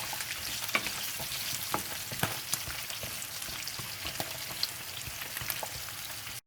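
French fries sizzle and crackle steadily in a hot frying pan, with scattered pops and occasional stirring scrapes, close up and without talk.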